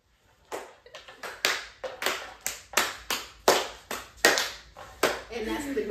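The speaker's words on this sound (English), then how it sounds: "Girl, what you clapping for?" A single person claps hands in a steady series of sharp, close slaps at roughly half-second intervals, each crack ringing briefly, loud and alone, with a voice starting at the end.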